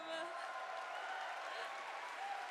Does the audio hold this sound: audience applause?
yes